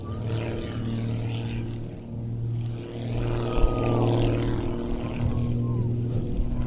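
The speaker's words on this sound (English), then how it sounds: "really showing us something of the speed of this modified S2S model as Rich runs in and pulls vertical for a climbing rolling tower" A modified S2S aerobatic model plane makes a fast pass and pulls vertical into a climbing rolling manoeuvre, its propeller engine a sustained buzzing drone that shifts in pitch as it climbs, with a voice commenting over it.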